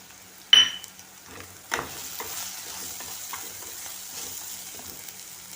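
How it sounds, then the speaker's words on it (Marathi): Coriander powder, turmeric and asafoetida frying with cooked onion and tomato, a close sizzle opened by a sharp clack of a spoon or pan, then steady stirring scrapes over continuous frying noise. "तर हा कांदा टोमॅटो शिजत झाला आहे, तर याच्यामध्ये मी ही धना पावडर,"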